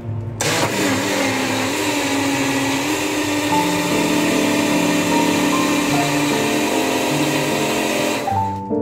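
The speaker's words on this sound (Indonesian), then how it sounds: "blender sampai halus" Kitchen blender motor running steadily while pureeing pumpkin with milk for soup, a loud continuous whir with shifting pitch that starts abruptly and cuts off near the end, no talking.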